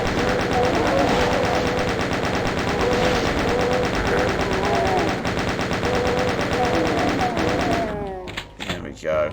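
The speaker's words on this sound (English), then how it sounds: "Chain gun time." Rapid automatic fire from a chain gun in a voxel-based Doom game, dense and loud through most of the stretch with thuds and game sounds layered over it, then cutting off near the end to a sparser, quieter tail.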